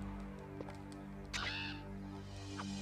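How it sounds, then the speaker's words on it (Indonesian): Over a droning Resident Evil background in Jill Valentine's scenario, a crow lets out a single raspy caw midway, preceded and followed by faint clicks. "harus kumatikan ini burung gagaknya"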